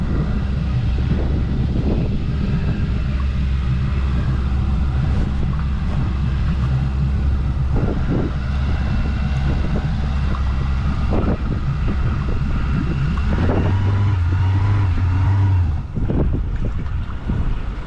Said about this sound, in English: Okay, gave it a little throttle.